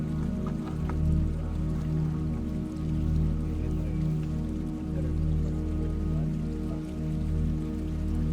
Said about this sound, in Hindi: बाहर हल्की बारिश